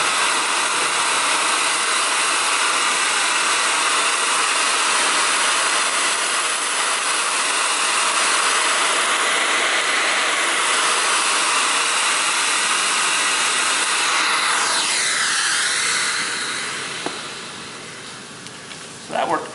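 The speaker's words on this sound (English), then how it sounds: "next up is the traditional style bare floor tool" Vacuum cleaner with a traditional bare floor tool running on a wood or parquet floor, a loud steady broadband whoosh that holds throughout and then fades near the end.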